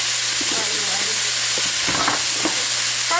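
Steaks fry loudly in a pan with a dense, constant sizzle and hiss close up, broken by small crackles and spatters throughout.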